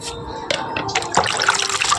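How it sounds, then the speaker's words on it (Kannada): Water splashes and trickles into a pan of fried okra in a home kitchen, a short uneven pour that builds over two seconds, with faint background voices. "ಆಯ್ತು ಇವಾಗ ನೀರು ಹೊಡೆಯೋದು"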